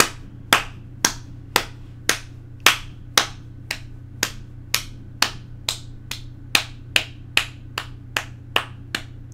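Slow, steady hand clapping, about twenty sharp, distinct claps at a regular pace of roughly two per second, crisp and close, over a constant low electrical hum, with no talking.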